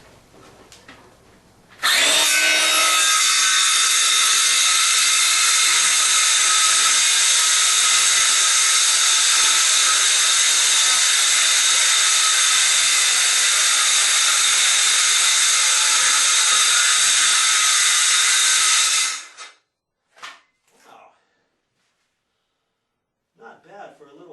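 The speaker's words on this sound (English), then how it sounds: "Not bad for a little battery operated saw, you know." Small battery-operated saw with a 5.5 inch carbide blade cutting through a cabinet shelf: a loud, steady high whine running about seventeen seconds, then stopping abruptly, followed by a few faint clunks.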